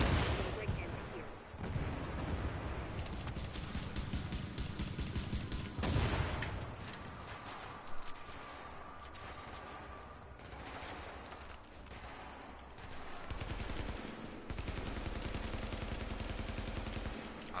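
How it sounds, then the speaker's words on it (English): Exploding bullets fire in rapid bursts in a video game, with heavy booming shots and blasts that keep going almost without a break through a loud, dense firefight. "love the exploding bullets"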